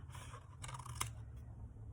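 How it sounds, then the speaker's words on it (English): Scissors snip through paper for a simple paper mosaic, a quiet close cut with one sharp click near the middle over a low background hum. "I'm going to take my scissors and I am going to cut."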